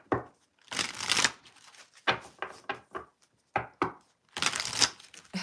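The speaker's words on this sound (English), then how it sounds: "Rachel, would you like me to pull some cards for you?" Tarot cards are shuffled in several separate bursts, crisp riffling and slapping of the deck close by, with short quiet gaps between rounds.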